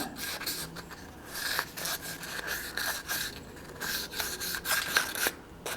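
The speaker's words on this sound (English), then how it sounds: "And I have some 2000 grit sandpaper. And I'll just kind of lightly polish that." Fine sandpaper, 2000 grit, lightly rubbing and polishing an oxidised part of the clutch hydraulics on a 1984 Honda 500 Interceptor, with a steady soft rasping in irregular back-and-forth strokes, close and fairly quiet, with no talking.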